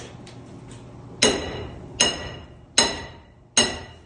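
Sharp metallic hammer blows driving a 3/4 inch stainless steel rod against the kingpin of a 1984 Peterbilt 359 truck's steering knuckle; four ringing strikes at a steady pace, close and loud over a low background hum.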